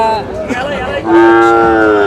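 A crossbred calf, a local and Sahiwal cross with white on its head, gives a loud, close, drawn-out moo at a busy cattle market.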